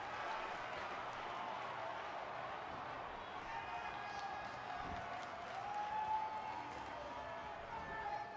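A wrestling arena crowd in WWE 2K18 roars and claps in a steady, moderate wash of cheering, with a commentator talking over it.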